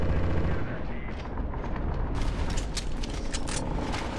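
Gunfire in a Counter-Strike: Source zombie escape map: dense, overlapping shots and bursts blend into a loud, continuous roar of rapid fire from several weapons, with a few sharper cracks standing out near the end.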